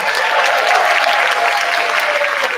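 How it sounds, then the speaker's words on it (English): Dense, steady applause from a school concert audience, loud and close, filling the whole stretch without pause, with a few voices mixed into the crowd. "big round of applause if you're excited for our grade 1 and 2 concert"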